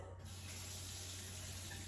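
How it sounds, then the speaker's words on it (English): Touch-activated kitchen faucet running steadily, a continuous close broadband rush of water that starts abruptly and holds even, with a low electrical hum underneath and no talking. "Oh, check this out. I love my faucet."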